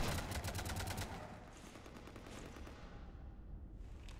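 Rapid automatic gunfire tears into a ship in Mass Effect 3, a dense burst of shots in the first second that fades into a lingering rumbling wash with scattered crackles.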